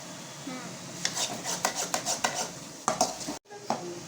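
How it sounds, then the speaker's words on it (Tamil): Small onions fry in a pan for fish curry, with a soft sizzle under rhythmic stirring and scraping strokes of a utensil against the pan, close up. A brief dropout is followed by more stirring. "தேவையான அளவு சின்ன வெங்காயம் போட்டுக்கணும்."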